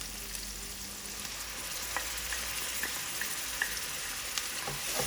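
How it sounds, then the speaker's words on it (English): Garlic ginger paste frying in a pan for meat samosa filling, giving a steady, even sizzle with faint occasional ticks and pops, close by and moderately quiet. "So now I'm going to add the garlic ginger paste."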